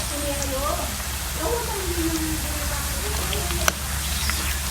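Banana slices fry in hot oil for chips, a steady low crackle and sizzle with one sharp pop near the end, with no voices over it.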